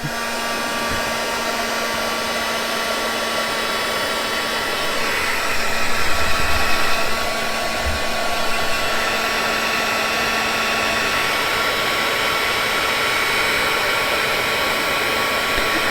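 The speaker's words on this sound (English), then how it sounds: "let's heat this up and dry it" A heat tool blows steadily for the whole stretch, drying metallic gold paint on unsanded chipboard in a junk journal; a close, continuous airy whoosh with a slight rise in the middle, no talking.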